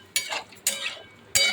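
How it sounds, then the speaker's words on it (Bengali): A spice paste fries in a pan while it is stirred, giving three short, sharp bursts of scraping and sizzling with brief quiet gaps between them. "এবারে এটা মশলাটা ভাজা হবে, মানে কষানো হবে"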